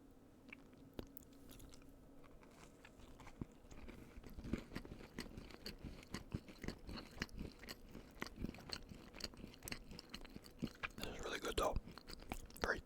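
Cookies being chewed close up in an ASMR mukbang, with steady wet crunches and bites that grow denser and louder toward the end, alongside soft whispering.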